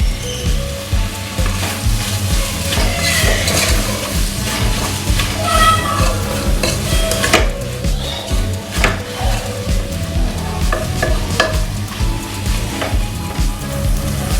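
Onions sizzle in hot oil for chicken biryani while a utensil stirs and scrapes the pan in loud, irregular strokes, with a few clinks of cookware throughout.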